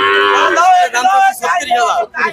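Heifers mooing loudly and close at Betaga cattle market, a few drawn-out calls following one another with brief pauses between them.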